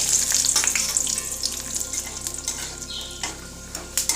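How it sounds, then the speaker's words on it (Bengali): Raisins, almonds and peanuts fry together in hot oil in a wok for semolina pulao, giving a loud, steady sizzle with scraping stirs and occasional spatters throughout and no talking. "আমি যে কিশমিশ, আমন্ড, বাদাম, চীনাবাদাম নিয়েছিলাম এইগুলো আমি একসঙ্গে কড়াইয়ে দিয়ে একটু ভেজে নিলাম"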